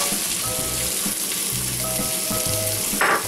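Chorizo, onions and hash browns sizzle and fry steadily in a pan, a close, continuous crackling hiss with faint stirring scrapes and no talking.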